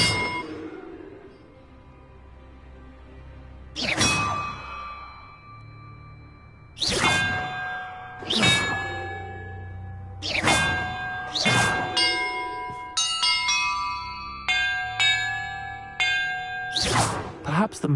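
Bells struck one after another in the PS5 game Hogwarts Legacy: about eight clear, resonant strikes at uneven intervals, their ringing tones overlapping and decaying between hits.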